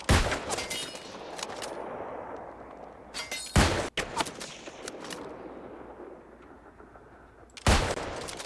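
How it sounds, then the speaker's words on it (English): In the New World Aeternum game, sniper rifle shots crack out as a few loud, sharp reports, one at the start, a close pair midway and another near the end, over quieter background action. "Okay, I just sniped him."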